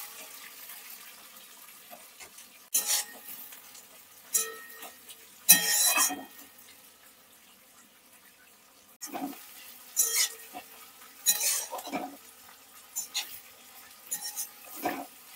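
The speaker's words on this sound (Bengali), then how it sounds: "পেঁয়াজটা দেওয়ার পর আমি ভালোভাবে নেড়ে নিচ্ছি।" Four chopped medium onions are stirred in hot spiced oil in a pan for Bengali-style chicken kosha: bursts of sizzling and scraping come in uneven strokes, separated by quieter low simmering.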